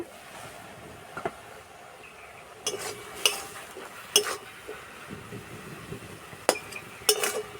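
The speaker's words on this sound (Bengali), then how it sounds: "এবার চাপাটা খুলে দেব" Metal lid lifted off a cooking pot in a village kitchen, heard as a few sharp clinks and clanks scattered over several seconds against a quiet background.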